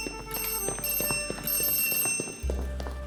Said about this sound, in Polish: Czekajcie, bo coś dzwoni. Dzwonek do drzwi.